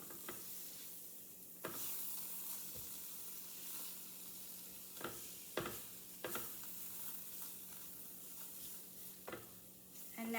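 Flour is stirred into browned sausage meat in a pan for sausage gravy: a quiet, steady sizzle with occasional soft scrapes and knocks of the spoon.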